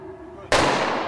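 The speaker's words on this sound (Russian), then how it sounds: "Автоматные выстрелы гремят в Абакане едва ли не каждый день." Ceremonial automatic rifle salute fired for Victory Day in Abakan, Khakassia; a single sharp, loud gunshot burst cuts in abruptly and rings on with a sustained broadband tail over faint background.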